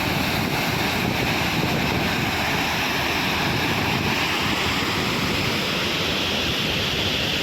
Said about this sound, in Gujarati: પાણી કેટલું સ્પીડમાં જાય છે